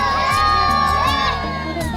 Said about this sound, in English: two different villages, or little neighborhoods of people, congregated to the outskirts or the side of the river and started calling us out and just yelling at us